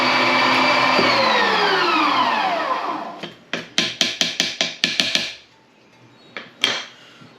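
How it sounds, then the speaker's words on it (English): Electric meat grinder running for brisket and rib sausage, a loud close motor whine slowing down, then a string of rapid knocking clatters and a couple of later bangs as it is worked and switched off. "turn my grinder on, run it through until it just starts pushing the ice out"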